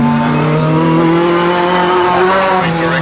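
Class 6 race cars howl around a circuit, a loud sustained engine drone with tires squealing over it, the noise holding steady without a break.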